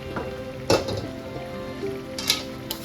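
Potatoes dropped into hot oil for dum biryani, a soft steady sizzle with a couple of sharp clinks of utensil against the pot.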